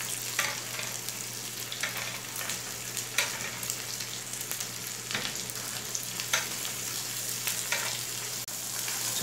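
T-bone steak frying in melted butter in a hot pan, a steady, fairly quiet sizzle with scattered crackles and pops throughout, no talking.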